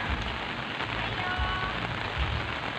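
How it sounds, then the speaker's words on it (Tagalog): Steady rain pours down near rice paddies, a dense, even hiss of drops close around with no voices. "Lagi pong naulan dito."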